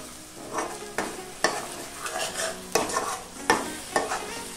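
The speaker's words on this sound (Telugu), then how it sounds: "టొమాటోస్ బాగా మగ్గిపోయాక ఇందులోకి 1/2 కప్పు పెరుగు వేసుకుంటున్నాను" Yogurt stirred into a cooking pepper chicken masala with tomatoes, with rhythmic spoon scrapes against the pan every second or so over a soft continuous sizzle, close and without talk.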